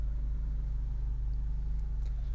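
A Honda CR-V with a 2.0 i-VTEC petrol engine idles steadily, giving a low, even rumble with a fine rhythmic pulse, close and continuous without talk.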